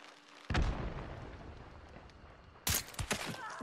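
Gunshots in the video game Hunt: Showdown, with one heavy booming shot followed later by a second loud shot and a few quicker trailing cracks, each fading out.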